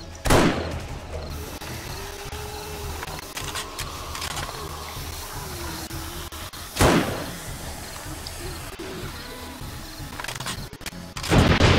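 An automatic turret in 7 Days to Die fires in a few sharp, loud bursts spaced seconds apart, with mechanical clatter and a voice talking between them.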